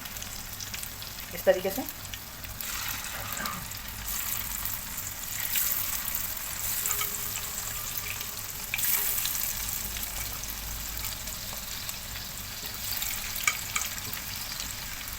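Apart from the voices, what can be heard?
chicken frying in a pan for sizzler biryani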